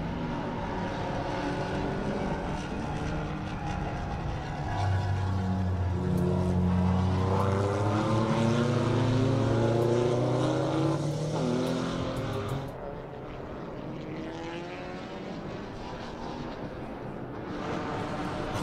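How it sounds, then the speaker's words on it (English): A race car driving back into the pits at Circuit of the Americas during a time-attack event, its engine droning loud and close with shifting pitch, then easing to a lower idle as it slows. "So here we have Cole coming back into the pits."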